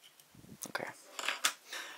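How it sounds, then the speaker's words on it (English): Scissors snip away leftover material on a shrimp-style redfish fly at a tying vise, a few short close crisp cuts spread over two seconds with quiet handling noise between. "Trim away the excess."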